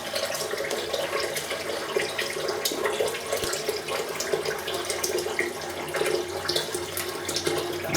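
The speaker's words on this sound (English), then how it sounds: "add some water into the brush" Water runs steadily from a tap into a sink while a shaving soap brush is wetted, a continuous close splashing stream with slight fluctuations and no speech.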